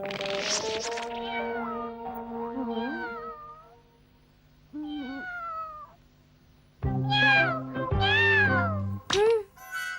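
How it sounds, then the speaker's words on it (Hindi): A cat meows repeatedly, close and loud, with wavering drawn-out cries of varied pitch and short pauses between calls, the last few louder and more insistent. "ये तो किसी बिल्ली की आवाज लगती है।"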